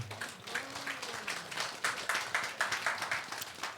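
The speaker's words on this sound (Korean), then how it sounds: "박수 한번 해주시길 바랍니다" A church congregation applauds for a deacon who is moving house, quiet rhythmic clapping in a steady beat with a voice briefly heard early on.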